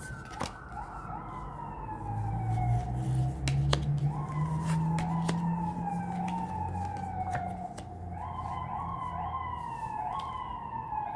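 An emergency vehicle siren heard through an open window sweeps repeatedly, falling tones cycling over several seconds, with sharp clicks and low traffic rumble in the background.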